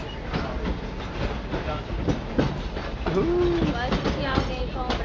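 A Walt Disney World Railroad train rolls through the Magic Kingdom with a steady rumble and rhythmic clickety-clack of wheels on track, close and continuous, with a brief squeal partway through.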